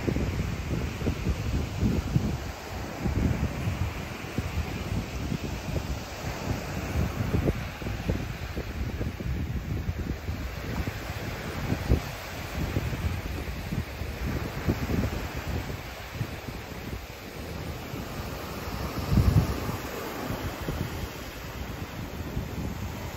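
Sea waves wash onto a Koh Samui beach, a continuous rumbling surf mixed with gusty wind buffeting the microphone, with no voices.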